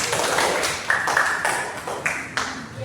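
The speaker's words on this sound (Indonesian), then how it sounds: "Tepuk tangan semuanya" A classroom group of students claps hands together in a close, sustained burst of applause with a few sharper taps standing out, no talking over it.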